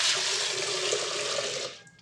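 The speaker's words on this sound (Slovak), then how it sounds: "vložíme do Vitamixu predpripravených 50 g konopných semiačok, zalejeme vodou" Water pours steadily into a Vitamix blender over 50 g of hemp seeds, a continuous rushing splash that tapers off at the end, with no talking.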